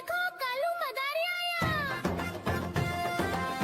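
Cat-like meows in a Hindi children's nursery rhyme, gliding high meow calls at the start, then sung over a loud, bright music backing with steady beats throughout.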